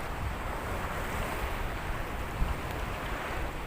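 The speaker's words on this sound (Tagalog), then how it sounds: "Grabe, lalaki ng alon." Large ocean waves roll in at a stormy Philippine shore, a continuous, loud, broadband rush of surf mixed with wind buffeting the microphone and no distinct individual breaks.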